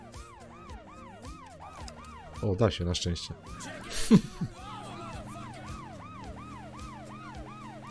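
Police car sirens wail in repeated rising and falling sweeps throughout a Scarface: The World is Yours video game scene, steady and fairly loud, with someone talking over them and brief bursts of louder game noise midway.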